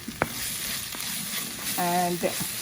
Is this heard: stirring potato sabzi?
yes